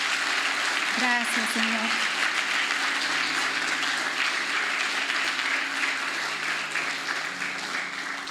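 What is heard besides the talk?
applause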